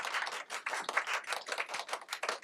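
A small audience at a Korean presidential candidate's meeting with social workers claps for a couple of seconds, brisk and fairly close, with no voices.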